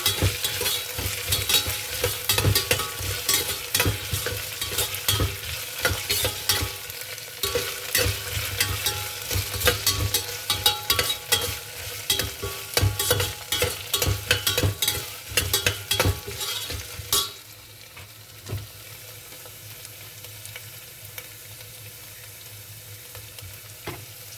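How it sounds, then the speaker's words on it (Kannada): Ginger-garlic paste frying in a pan for ghee rice, a dense continuous sizzle with frequent stirring scrapes, loud and close, fading sharply to a quieter simmer in the last few seconds. "ಅದನ್ನು ಚೆನ್ನಾಗಿ ಫ್ರೈ ಮಾಡ್ಕೊಳ್ಳಿ. ಅದು ಹಸಿ ವಾಸನೆ ಎಲ್ಲ ಹೋಗ್ಬೇಕಂತ."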